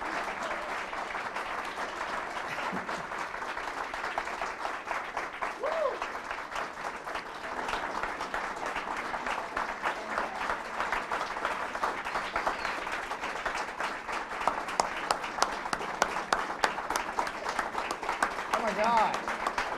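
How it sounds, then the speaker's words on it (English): Sustained audience applause for a conference panel at an education event, a dense, even roar of many clapping hands that carries on for about twenty seconds, with a few sharper claps and faint voices near the end. "If you would please give a round of applause to our panel."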